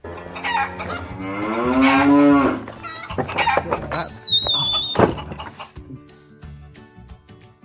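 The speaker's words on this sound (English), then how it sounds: "Cows." Cows mooing among farm animals, a loud drawn-out low moo near the start followed by clucking fowl and other barnyard calls, with people talking over and between the animal sounds.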